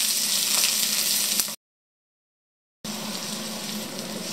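Onions frying over low heat in a pan for a potato omelette, a steady, soft sizzle with a gap of silence in the middle, no voices.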